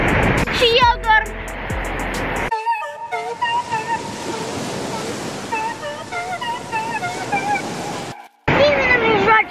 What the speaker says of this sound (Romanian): Ce valuri mari.